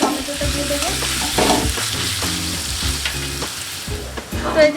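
Salted onions fry in hot oil for a Kerala-style chicken curry, a steady close sizzle broken by repeated scraping strokes of a spoon stirring the pan throughout.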